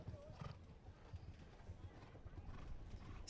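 Horse hooves on an outdoor grand prix show jumping course, a steady clip-clop of strides running throughout under a commentator's voice.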